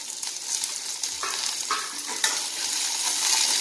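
Small shallots and garlic sautéing in a pan for fish kulambu, a steady sizzle with scraping stir strokes throughout, close and moderately loud, no voices.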